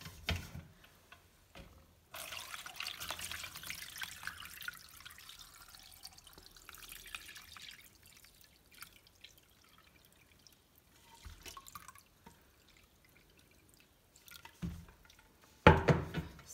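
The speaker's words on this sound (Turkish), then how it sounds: "Şişelere dolduracağım. Bir süzgeç yardımıyla." Honey dripping through a strainer into bottles, giving faint, sparse drips and soft trickling with long quiet gaps and a louder clatter near the end.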